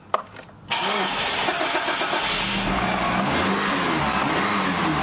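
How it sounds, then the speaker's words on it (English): After a short moment of quiet clatter, a third-generation Mitsubishi Eclipse GS engine starts and roars steadily, revving up with rising and falling pitch throughout; the engine will not idle. "Man, it revs up pretty good too."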